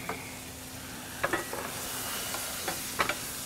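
A jalapeno mixture with Demerara sugar is stirred in a pan, a few soft scraping strokes rising over a steady background sizzle, close by and without talking.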